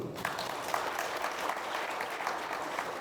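An audience at a construction association's annual general meeting claps continuously, a fairly soft and even patter of many hands heard from some distance throughout.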